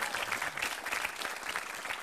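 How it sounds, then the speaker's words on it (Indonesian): A studio audience at a televised stand-up comedy battle claps steadily, a continuous fairly distant wash of hand clapping with no talk over it. "Oke, tepuk tangan untuk Smart."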